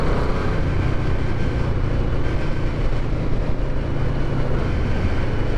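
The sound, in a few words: restored Yamaha Vmax muscle motorcycle engine while riding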